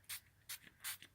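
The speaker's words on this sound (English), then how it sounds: "I'm going to spray kind of purple over it" Purple Marabu spray paint is misted onto a gelli plate in three quick, short hissing bursts, close and soft, with brief pauses between.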